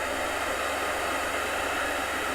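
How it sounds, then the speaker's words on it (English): A hair dryer blows steadily on a nail wrap, a constant airy whoosh that holds at one even level throughout with no voices. "So I'm going to turn on my heater, hair dryer."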